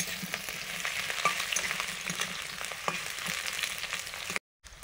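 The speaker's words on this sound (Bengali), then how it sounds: "অল্প একটু আলু আর ছোলা কচু এগুলো আগে ভাজছি" Potato and taro pieces fry in a pan with a steady, close crackling sizzle, broken by soft stirring scrapes and clicks, with no talk and a brief cut near the end.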